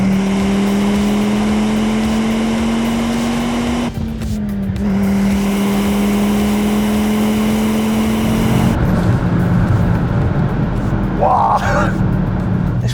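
An Audi RS2 turbocharged engine pulls hard under boost, its rising harmonic whine climbing as it accelerates. A gear change breaks the tone, then it pulls again, loud and close, with tire and road roar and some voice underneath.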